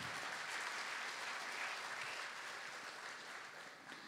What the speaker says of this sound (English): A big applause for the artists also.